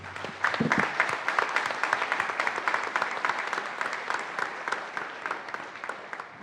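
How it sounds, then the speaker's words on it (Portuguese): Sustained applause from a sizable audience at a symposium, many hands clapping steadily and densely for several seconds without talk. "é necessário trazer para vocês, da coordenação desse evento, os nossos parabéns e a salva de palmas de todos nós"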